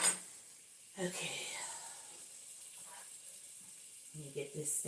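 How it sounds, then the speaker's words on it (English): A soft, steady sizzle of butter frying in a pan, with brief bits of low speech at the start and end. "I don't know if y'all can hear that sizzling."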